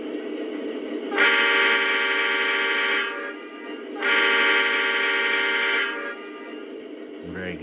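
An RJ Corman SD40T-2 model train locomotive sounds its horn in two sustained, multi-tone blasts of about two seconds each, loud and close, with a steady background hum between them.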